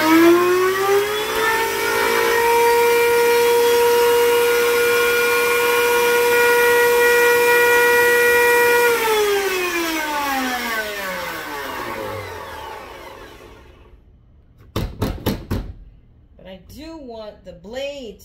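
Electric grinder whirring at high speed while grinding pepper into a fine powder, a loud steady motor whine that winds down and stops, followed by a few short sharp bursts and a brief rattle.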